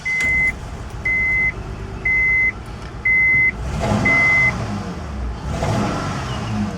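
A 2004 Honda Pilot engine idles with a misfire, a rough steady running rumble heard up close, while loud reversing-style beeps sound five times in an even rhythm over the first half.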